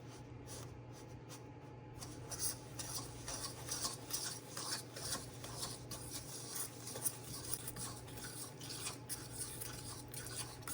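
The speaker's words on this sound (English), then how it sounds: "And we're gonna whisk this in until it's combined." Whisk scraping steadily through brownie batter as packed brown sugar is mixed in, a soft, close, continuous swishing and tapping against the bowl that runs on without talk.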